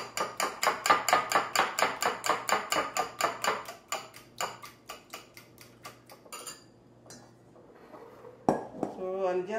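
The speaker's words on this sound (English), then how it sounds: "And beat your eggs." Eggs beaten with a fork or whisk in a bowl of muffin batter that already holds sugar and baking powder, giving a fast, steady run of loud clinking taps against the bowl that slows and thins out toward the end.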